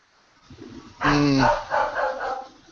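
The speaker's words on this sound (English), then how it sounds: "Dog's barking." A dog barks in a short cluster of three or four fairly loud barks at close range, following a quiet stretch of room noise.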